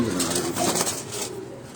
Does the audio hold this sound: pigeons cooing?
yes